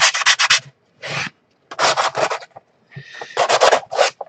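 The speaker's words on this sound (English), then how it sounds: "This is really coarse sandpaper" Coarse sandpaper rubs back and forth in quick rasping bursts, close and loud, grouped into several short runs of strokes with brief pauses between them.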